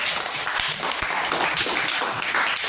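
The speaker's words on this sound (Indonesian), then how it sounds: "berikan aplaus dulu untuk kelompok 2" Classroom applause for a student group, a steady, dense wash of clapping from many hands lasting the whole stretch at even loudness, with no one speaking.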